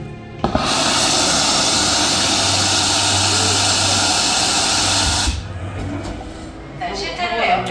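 Car airbag inflating during a demonstration at a Hyundai museum, a loud sustained rushing hiss lasting several seconds that cuts off abruptly, followed by faint speech.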